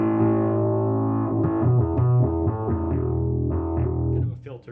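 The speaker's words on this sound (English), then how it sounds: "Kind of a filtery, Yep. intermodulating distortion." Bass guitar runs through a New Zealand-made Prunes and Custard fuzz pedal, giving a thick, filtery, intermodulating distortion as a few sustained notes and slides ring out loud, then cut off near the end.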